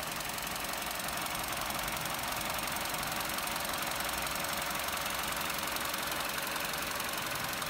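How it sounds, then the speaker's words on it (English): A Vauxhall Corsa 1.2 SXi engine idles in a steady, even drone with a faint ticking edge, running continuously throughout without any talk. "Engine's running very smoothly."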